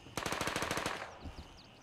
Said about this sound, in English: There's automatic gunfire.